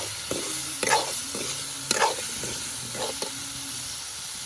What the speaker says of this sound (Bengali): নাড়াচাড়া করে আলুটা দিয়ে দেব।